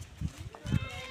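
A goat at a rural home being fed leaves, giving two short, soft bleats, faint against low background noise, with quiet voices nearby.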